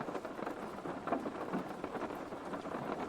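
Steady rain pours down in a soft, continuous hiss with scattered drops, fairly quiet and with no voices.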